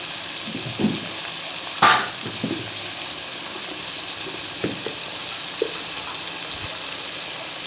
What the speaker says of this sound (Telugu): వేయించుకుంటాం టమాటో ఉంది కదా ఒక ఫోర్ టమాటోస్